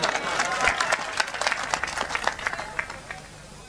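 Audience applause at a mushaira poetry gathering held at a school in Babuganj, Pratapgarh: a dense, steady patter of many hands clapping at moderate distance, thinning slightly toward the end, with some voices mixed in.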